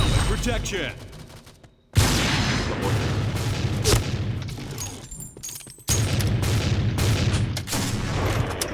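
Loud explosions and heavy gunfire in the online shooter Point Blank, with sharp booms cutting in around two and six seconds over continuous rattling shots and battle noise.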